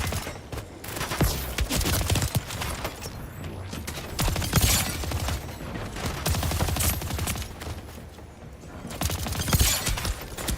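Rapid, sustained gunfire from the video game Splitgate 2 crackles almost nonstop, with dense overlapping bursts and impacts that stay loud throughout, and no talking over it.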